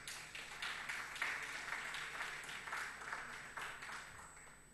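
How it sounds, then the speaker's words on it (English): An audience applauds at the launch of the Africa Prosperity Dialogues 2025 as a panel guest is introduced. Steady, fairly faint clapping runs throughout, with no talk over it. "A round of applause."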